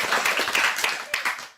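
Brief burst of applause and clapping for a young child guest at a radio children's assembly, a short close patter of hands with voices mixed in.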